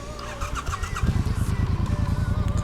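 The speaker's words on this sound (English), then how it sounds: "let me just start it up for you, and we'll see how this Vance & Hines sounds" Triumph motorcycle fitted with a Vance & Hines exhaust starts up close by, the starter catching into a steady, throaty, pulsing idle.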